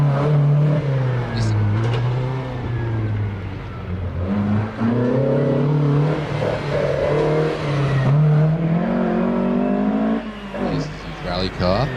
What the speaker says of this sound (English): As we see Mark Povey in his Stanza rally car making its way to the top.